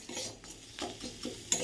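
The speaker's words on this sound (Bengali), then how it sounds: "চলো এটাকে একটু ভাজা ভাজা করি, করে এর মধ্যে জল দিয়ে দিই।" Jackfruit seeds are stirred as they fry in a pot, with a faint series of regular scraping strokes against the metal and no talk.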